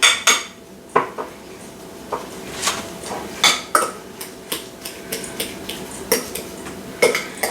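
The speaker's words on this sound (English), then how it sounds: "take like half the potatoes into each one of the containers. And kind of just like press that down." Potatoes being scooped into containers and pressed down, a series of sharp clinks and knocks of a utensil against the dishes at an irregular rhythm, close and fairly loud, without talk.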